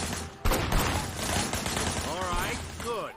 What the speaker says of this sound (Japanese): これブラインドファイアモードで銃を撃て